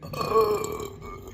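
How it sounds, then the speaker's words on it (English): A long, drawn-out burp during a mukbang eating session, loud and close, rumbling continuously for over a second before fading, with no talk over it. "This is probably the longest burp ever."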